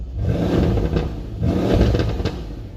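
A Mercedes C63 AMG engine in sport mode with the exhaust baffle open revs twice, rising and falling with a deep throaty roar, heard close by with no talking.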